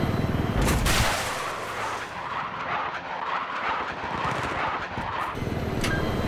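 Bursts of automatic rifle fire and heavier blasts in a Battlefield 3 multiplayer battle, loud and close, with vehicle engine noise in the mix and near-continuous shooting through most of the stretch.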